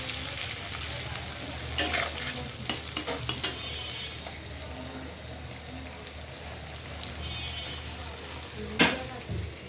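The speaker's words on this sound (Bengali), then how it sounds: "এখন নাড়াচাড়া করে নিচ্ছে এটা আপনারা সবাই জানেন মানে ছানাগুলো ভেজে নিচ্ছে" Chhana pieces frying in a pan while being stirred, a continuous close sizzle with scattered sharp scrapes and clinks of the utensil against the pan.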